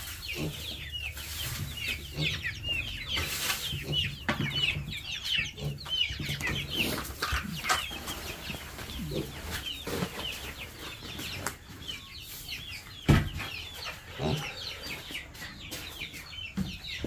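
Chickens cluck and squawk continuously in a farmyard coop, a dense chorus of overlapping calls with occasional wing flaps and a sharp knock near the end, fairly close and steady throughout.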